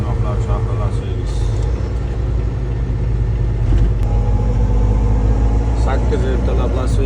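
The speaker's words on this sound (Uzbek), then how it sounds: "8 ertalab Las Vegasda probka" Morning traffic jam in Las Vegas at 8 a.m., heard from inside a truck: a continuous low engine and traffic rumble with a brief air-brake hiss, under muffled voices.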